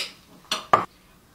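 Cooked rice being fluffed with a utensil inside an Instant Pot: two brief, close scraping clinks about a quarter second apart, then quiet.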